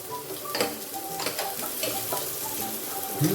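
Ginger sautéing with onion in a pan for a catfish in coconut milk dish, a soft continuous sizzle broken by a few stirring scrapes, fairly close and unaccompanied by speech.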